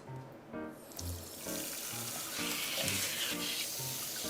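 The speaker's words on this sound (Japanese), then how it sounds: "じゃあとりあえずね洗っていきます。" An ostrich gizzard being rinsed under a running tap: water starts gushing after a quiet opening and then flows steadily, with some rhythmic tonal clatter running underneath.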